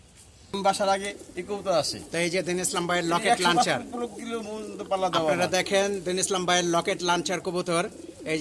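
Pigeons coo repeatedly in low, throaty bursts close by, nearly continuous throughout, with some rustling between calls, among pigeon fanciers in Lalbagh, Dhaka.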